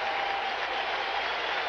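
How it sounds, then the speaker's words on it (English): At a baseball game in St. Louis, a stadium crowd applauds a home run with a steady, dense roar of clapping that holds evenly throughout. "Crowd's giving Milt Thompson a hand."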